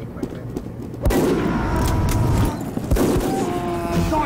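Gunfire in Team Fortress 2: a sudden loud shot cracks out, followed by sustained rumbling battle noise and a second sharp report a couple of seconds later, close and punchy.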